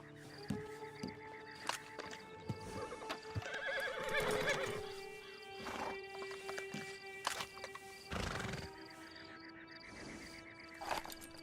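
In Red Dead Redemption 2, a horse whinnies repeatedly in loud bursts while hooves clip-clop at close range, with no talk.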